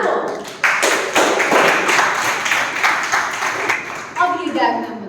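Audience members clap along at a leadership lecture, a burst of dense, steady clapping that starts abruptly and carries on for several seconds, then gives way to a voice speaking near the end.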